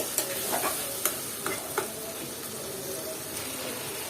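Mixed vegetables, bitter gourd among them, sizzle steadily in a hot pan while a spatula stirs them, giving a few sharp scrapes and clicks over a constant close frying hiss.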